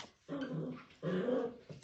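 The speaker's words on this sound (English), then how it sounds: "Puppies are playing over there with something new under the surface" Puppies at play, with two close bursts of soft growling and whimpering yips separated by a brief pause.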